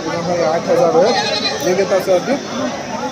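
Several wavering bleats from a young goat rise over busy market chatter at a Bakrid sheep and goat market in Chikka Tirupati, Bangalore, people talking all around at close range.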